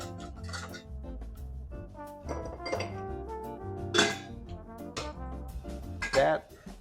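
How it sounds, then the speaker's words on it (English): Ice cubes clink and rattle into a tall Collins glass in several sharp, bright knocks over about seven seconds, heard close over a low background hum. "We're going to put some ice in our Collins glass."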